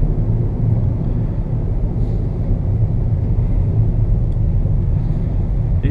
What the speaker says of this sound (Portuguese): o caminhão gigante tá andando mais rápido que eu